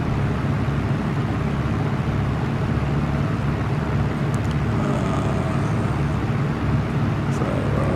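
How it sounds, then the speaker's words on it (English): A piston aircraft engine in the X-Plane 11 flight simulator drones steadily and loudly, a constant broad rumble that never changes in level over eight seconds. "Just turn the engine sound down a bit"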